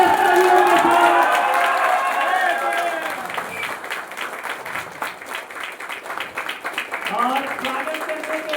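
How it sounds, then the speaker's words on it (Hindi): A crowd at a stage event applauds and cheers to welcome a performer, a loud burst of clapping and shouts that settles into steadier clapping, with voices talking over it. "जबरदस्त पटका पटकी वाला ताली चिल्लाहट के साथ आमंत्रित करते हैं"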